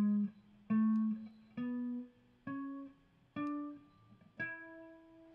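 Six separate plucked or struck tones rising step by step through a Mixolydian scale starting on E, each note ringing and decaying before the next, played alone at a moderate, even pace with no voice.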